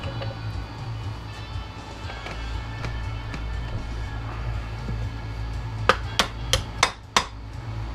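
Sharp metallic hammer strikes drive a stuck aluminum piece out of a steel Honda ATV brake caliper, with scattered light taps early on, then a loud run of five or six ringing blows near the end.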